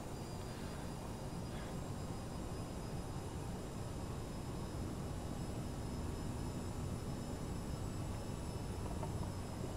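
CRJ700 jet engines spool under thrust in a flight simulator, a steady, dense broadband roar with a faint high whine, constant and loud from start to finish with no speech.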